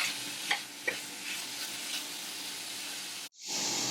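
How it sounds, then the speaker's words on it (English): Small pieces of beef fry with onion and garlic in a pan, giving a steady close sizzle with a couple of stirring knocks before a brief cutoff and a louder hiss. "we add it to the onion and garlic and stir it together and let it fry"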